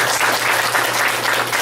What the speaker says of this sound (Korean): 우리 있을 때 한번 큰 박수 한번 부탁드립니다.